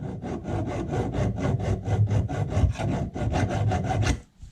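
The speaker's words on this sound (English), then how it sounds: "just with a fine metal file" Fine metal file rasping across car body panel metal on a classic Mini under restoration, in quick, even back-and-forth strokes, close and fairly loud, stopping abruptly at the end.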